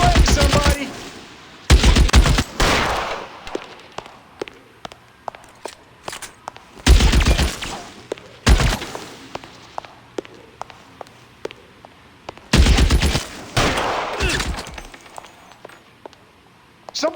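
Gunfire in an L.A. Noire firefight: loud bursts of rapid shots in several volleys, with scattered single cracks and thuds between them, and shouting voices mixed in.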